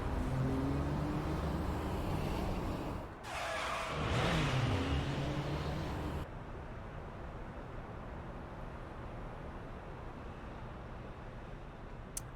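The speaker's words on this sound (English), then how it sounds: "I can hear tires screeching." A car engine revs loudly with a brief squeal of tires midway in a Guilty Gear Strive story cutscene, then cuts off abruptly to a low, steady rumble of background noise.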